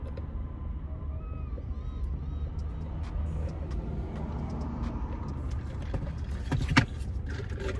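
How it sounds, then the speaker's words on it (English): Steady road traffic near a busy shopping center, a continuous rumble of passing cars heard from inside a vehicle, with a brief louder knock near the end. "it is like so much traffic,"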